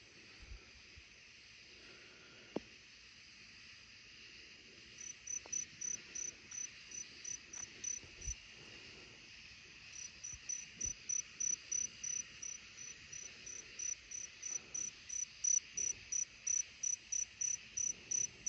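Outdoors at night by a grandmother's house, a cricket trills in repeated short pulses, faint and sparse at first, then settling into a steady, evenly spaced rhythm that sounds fairly close. Nobody speaks.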